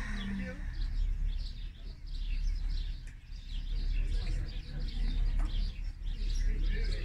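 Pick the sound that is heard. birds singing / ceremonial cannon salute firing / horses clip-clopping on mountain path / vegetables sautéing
birds singing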